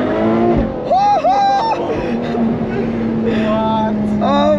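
A new Ferrari F12 TDF's engine revs and accelerates from the driver's seat, a loud, rising-and-falling whine with clear gear-shift steps, sustained and close throughout.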